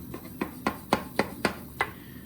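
A knife cuts through a baked walnut pie (karydopita) in seven crisp, evenly spaced strokes, each a short crunchy chop heard up close with nothing else around it.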